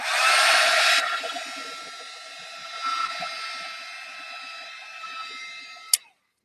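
A heat tool blows hot air to dry paint on an art journal page: a loud, steady whooshing hum that drops in level after the first second, continues more quietly, and ends with a sharp click as it switches off.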